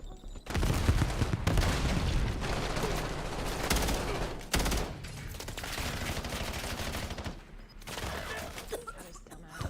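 Marksman rifle gunfire in the video game Black Ops 7, dense and continuous with rapid overlapping shots and explosive bursts filling most of the stretch, loud and close with brief lulls.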